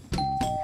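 A doorbell rings at a house door, a clear ding followed by a second tone, loud and close with no talk over it.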